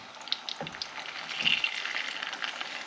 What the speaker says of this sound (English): I'm just going to brown these off, seal them off